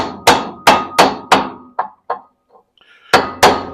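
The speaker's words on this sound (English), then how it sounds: "I take a piece of aluminum and just start tapping" Sharp hammer-like taps of a piece of aluminum driving a wheel bearing into its bore, six loud evenly spaced strikes with two lighter ones in between, close and with no talk.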